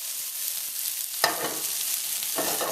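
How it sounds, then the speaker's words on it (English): Okra curry sizzles in a non-stick pan, with a soft hiss that bursts louder twice as the pieces are tossed and stirred, close by and without talk. "I'm just gonna give that a quick toss and let it cook for a couple more minutes"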